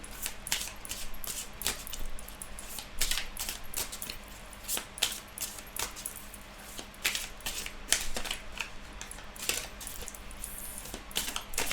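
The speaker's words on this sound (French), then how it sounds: "prendre juste 3 cartes pour voir les énergies importantes. On va mélanger un petit peu." Tarot cards being shuffled by hand, a steady run of soft riffling and quick crisp clicks over a faint constant hum, close and quiet, with no talking.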